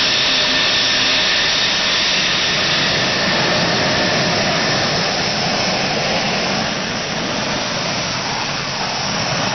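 Rafale combat aircraft jet engine during an aerial demonstration, a loud steady roar that fills the whole stretch and stays close and sustained throughout.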